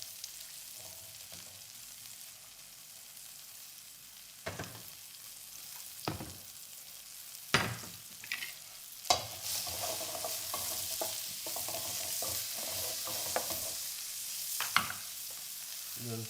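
Onions fry and sizzle in a hot pot with a steady soft crackle, interrupted by several sharp scraping stirs and clinks of a utensil against the pan.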